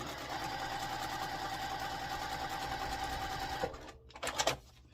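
A sewing machine stitches quilt block pieces together at a steady, fast whirring pace, close and fairly quiet, running continuously before stopping abruptly near the end, followed by a few faint handling sounds.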